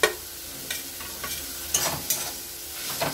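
Coriander leaves being stirred into egg tadka in a pan, soft sizzling under a handful of distinct spatula scrapes and taps spaced through the moment, quiet and close with no talking.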